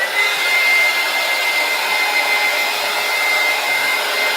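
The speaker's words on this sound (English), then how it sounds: "So what I'm going to do now is I'm going to dry it. Where's my dryer?" Hair dryer blowing steadily on acrylic paint on paper, a constant loud whooshing hum with a faint high whine that stays even and uninterrupted throughout.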